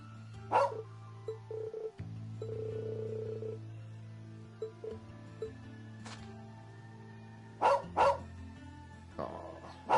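A husky barking in the video game Legend of Heroes 2, a few short sharp barks in separate bursts over steady game music and tones.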